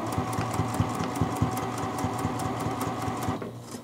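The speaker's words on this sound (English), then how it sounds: "So I'm just going to run my stitch line around here with about an eighth of an inch." A sewing machine stitching a quilt label onto fabric, running close and steady with a rapid regular needle clatter for over three seconds before stopping.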